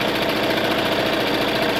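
A sewing machine runs in one steady, unbroken hum while stitching a quilted fabric bag, a close and constant mechanical whir with no pauses.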